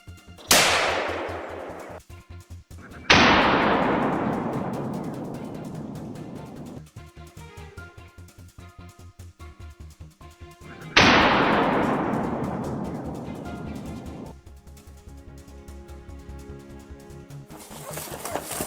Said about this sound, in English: And the gunshot rings out again.